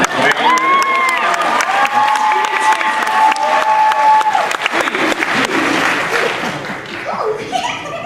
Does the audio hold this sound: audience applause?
yes